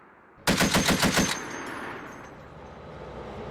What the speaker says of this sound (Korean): 미 스트라이커 여단 장갑차의 M2 브라우닝 기관총이 불을 뿜자 총성이 메아리쳐 돌아옵니다